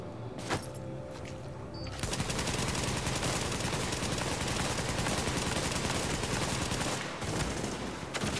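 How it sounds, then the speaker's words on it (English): Sustained automatic gunfire in the video game The Division 2, a dense, loud, continuous barrage that starts after a quieter opening with a single sharp report and a brief dip near the end, without speech. "I'm shooting at him with you right now"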